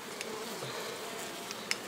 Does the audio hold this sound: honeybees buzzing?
yes